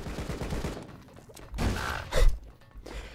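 AK rifle gunfire in the video game Rocketbirds 2 rattles in a quick burst, followed by a few heavy thumps and impacts, loud and close.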